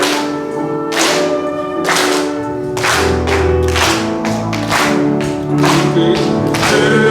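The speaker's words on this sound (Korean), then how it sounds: "박수 치면서 함께 찬양하겠습니다." A church congregation claps in steady rhythm while singing an Easter hymn together, loud sharp claps about once a second over massed voices and accompaniment.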